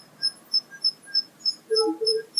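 Liteon laptop power supply with a fault giving off a thin, high-pitched cricket-like whine, pulsing in regular chirps about three times a second, with a brief lower tone near the end.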